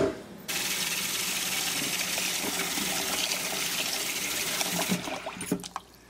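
Tap water gushes into a cooking pot, a steady broad rushing stream that starts abruptly and runs evenly, then gives way to a few clinks and knocks near the end, with no talking.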